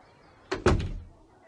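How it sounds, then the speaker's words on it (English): A door swings shut with a single solid thud, followed by a brief rattle and a low settling rumble, fairly close and heard alone with no talking. "And the woman closed the door."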